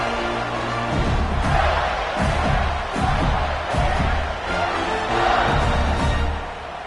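A stadium crowd at a college football game cheers after a punt return, a broad, continuous roar of many voices swelling and holding at a loud level throughout.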